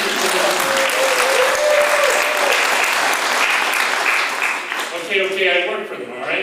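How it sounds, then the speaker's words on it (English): Loud, sustained audience applause fills a festival theatre night of one-act plays, greeting the evening's sponsor, a Newmarket credit union; a voice speaks over the clapping near the end as it begins to thin. "Let's hear a warm applause for Meridian Credit Union."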